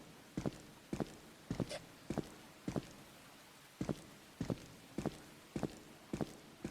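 Footsteps in the video game The Mimic, a steady series of firm, evenly spaced thuds with a slight double impact on each step, loud and close with no talking.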